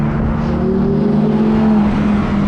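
A Lamborghini on the Las Vegas Strip, its engine a loud, steady droning roar nearby with a slight pitch rise as it drives past, no talking over it.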